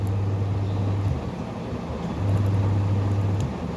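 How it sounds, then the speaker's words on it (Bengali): A kitchen chimney exhaust motor runs at its lowest speed setting, giving a steady low hum that drops out briefly midway and then resumes, close by with no talk. "মোটর কিন্তু ঘুরছে"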